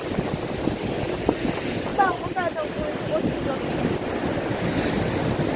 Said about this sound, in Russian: Давай сейчас будет волна